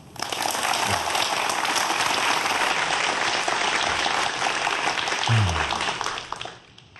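An audience applauds at the start of a lecture on forensic science, a dense, sustained burst of clapping that swells and then tapers off near the end.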